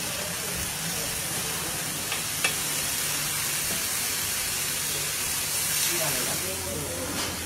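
Fish fries in coconut oil at a Mangalore street stall, a loud, steady hiss and sizzle with occasional clinks and stirring, while people talk faintly nearby.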